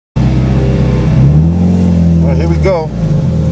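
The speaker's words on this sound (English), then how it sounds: "So we'll get the Dynoflash STI running." Subaru STI drag car idling loud and close at a drag strip, its engine note rising briefly into a rev near the end while someone speaks over it.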